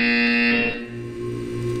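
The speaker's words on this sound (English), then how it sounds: "You will hear a buzzer." A loud, steady electronic buzzer from the Portal 2 video game test chambers drones continuously with a harsh tonal hum that shifts slightly in pitch partway through.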